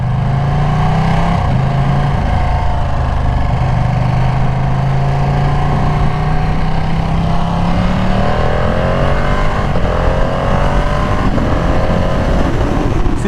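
A rare Ducati motorcycle ridden at low speed, its engine droning steadily and loudly up close, with pitch climbing and shifting as the bike accelerates through gears, no voices over it.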